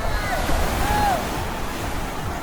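Sea waves wash onto a beach in Bolinao, Pangasinan, a steady broadband rush mixed with wind buffeting the microphone, while people talk nearby.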